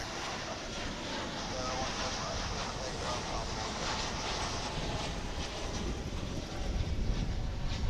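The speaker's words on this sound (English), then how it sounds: "It's American Flight 2792, 737-800." An American Airlines Boeing 737-800, inbound from San Antonio, arrives at Dallas/Fort Worth International Airport with a steady, broad jet roar that holds for several seconds, mixed with wind buffeting on the microphone.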